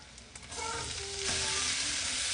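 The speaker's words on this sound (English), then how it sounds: "I'm going to go ahead and add in my diced up onions, minced up garlic, and diced up jalapeños." Diced onions, minced garlic and diced jalapeños hit a pan of crisping bacon and break into a steady, loud sizzle that swells and holds, with a few light clinks at the start.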